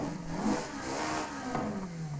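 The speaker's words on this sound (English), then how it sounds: "That's what an engine should sound like." Ferrari 296 GTB fitted with a swapped 4.5-liter V8 in Forza Horizon 5, the engine revving with a steady, rising-then-falling drone, loud and on its own.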